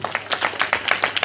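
A congregation clapping in church at a Christmas celebration, a quick run of about ten sharp, evenly paced claps in a steady rhythm.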